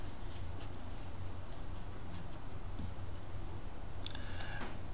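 Writing on a board during a physics lesson, a run of scratchy strokes and taps close by, with a brief burst of rapid marks near the end and no talk.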